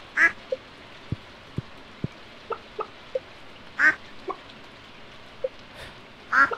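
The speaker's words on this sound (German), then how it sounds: "ich will die Ente" Ducks quacking in the farming video game Stardew Valley: three short nasal quacks spaced a few seconds apart, with soft clicks and taps over a quiet game background.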